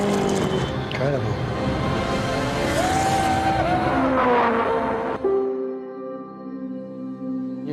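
A 1960s Lotus 25 with a Climax engine races past in Formula One, its high, rising engine wail loud and sustained before cutting to a lower, steadier drone, with commentary voices over it.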